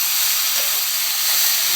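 Greens are tossed into a pan of frying onions for a Tamil-style keerai poriyal, and a steady, close hiss of sizzling oil and steam runs through without a break.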